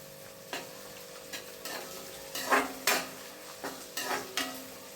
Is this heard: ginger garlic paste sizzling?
yes